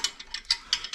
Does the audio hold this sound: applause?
no